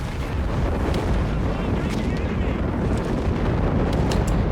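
Stuka dive bombers barrage the ground in Company of Heroes 3, heard as a continuous loud roar of explosions and rumble, with dense low booms and scattered sharp bursts throughout.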